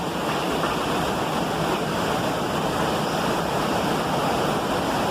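A waterfall in Presidente Figueiredo, Amazonas, roars in a steady, dense rush of falling water, loud and unbroken throughout, with no voices.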